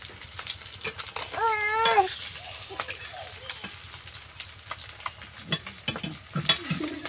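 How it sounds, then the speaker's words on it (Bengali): Fish stirred and frying in a pan gives steady sizzling with spatula scrapes and clatter, close and moderately loud, with a brief cat meow early on and faint voices in the background. "মাছ ঝুরঝুরি ভাজা হয়ে যাবে, ঝুরঝুরি ভাজা, ঝুরঝুরি ভাজা।"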